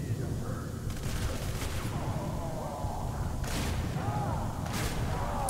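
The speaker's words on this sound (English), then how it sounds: "This is my shotgun." Shotgun fire in the video game Hatred, a few sharp bursts of gunfire spaced a couple of seconds apart over a busy background of game noise, with a voice talking.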